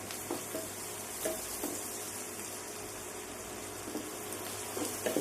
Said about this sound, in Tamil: இப்போ வெங்காயம் போட்டு வதக்கிட்டு இருக்கிறேன்